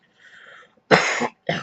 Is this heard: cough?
yes